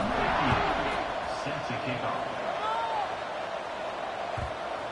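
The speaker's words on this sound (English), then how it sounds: "this crowd is buzzing after that last score" A stadium crowd in a football video game, with a dense, steady roar and buzz filling the background throughout.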